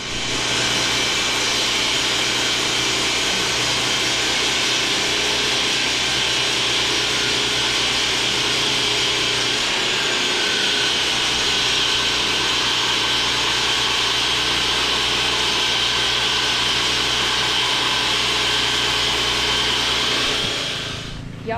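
A lawnmower bush hog running nearby with a continuous loud, rough mechanical roar and grinding whir that holds steady for the whole stretch before cutting off at the end.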